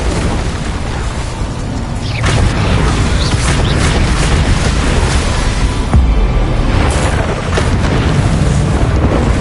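Incendio and Confringo fire spell blasts in the video game Hogwarts Legacy: a loud, continuous string of booming bursts and explosive pops, close and forceful, with no voices.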